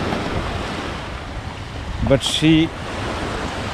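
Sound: ocean waves at Prince Edward Island shore

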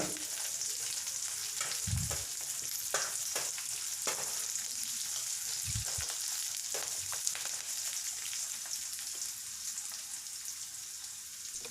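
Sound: tempering spices sizzling in oil

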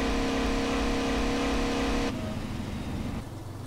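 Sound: engine of a new car in the video game SeeMTA

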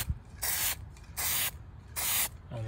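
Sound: spray painting a 1957 Chevy

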